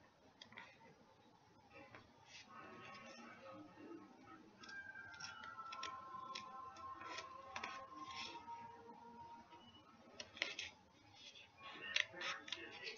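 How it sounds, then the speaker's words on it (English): Scissors snipping through paper while cutting out a handmade paper daisy, quiet close-up snips and small ticking cuts in an irregular rhythm against a soft room background. "Cut that out."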